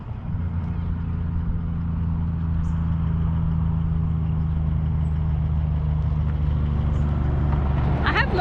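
Heavy trucks roll past on a highway near Southend in South Australia, a steady low engine and tyre rumble that holds loud and close for the whole stretch.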